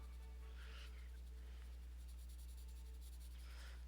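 Colored pencils from a 120-piece Nyoni set shading lightly across paper, a soft close scratchy rasp in two short bursts with a quieter stretch between, faint against a steady low hum.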